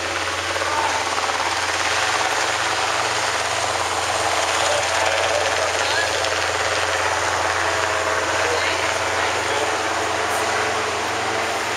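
A helicopter leaving a riding academy graduation ceremony makes a broad, steady roar with a dense rotor and engine wash that stays loud and constant throughout, with no speech.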